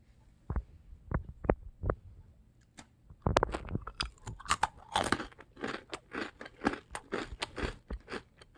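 Haitai Matdongsan Black almond and hazelnut snack chewed close to the mic: a few sharp separate bites, then steady, dense crunching with no talk.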